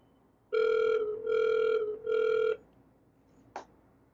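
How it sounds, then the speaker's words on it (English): A power dialer in a realty CRM sounds three steady electronic dial tones in a row, each about half a second long with short gaps between them, followed by a short click. No one speaks. "Once you enter 0, it'll begin dialing the next numbers on the list."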